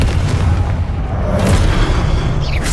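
Confringo explosive spell cast in the Hogwarts Legacy video game, a loud, close, rumbling boom that fills the moment with a sustained blast and crackle.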